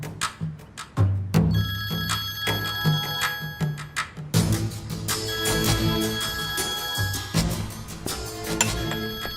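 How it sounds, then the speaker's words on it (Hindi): A phone rings repeatedly in short bursts of electronic tones, fairly loud and close, with clinks and background sounds mixed in. "मुझे लगा केमल भाई का फोन"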